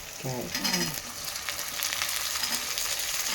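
Carrots frying in a pan while cooking jowar upma, with pesarapappu already added, sizzling in a steady hiss with a few brief stirring sounds near the start, close and fairly loud.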